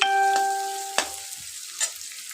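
Chopped garlic and ginger dropped into hot oil in a pan for a South Indian style rice, giving a loud sizzle with a few sharp clinks, then a softer steady fry.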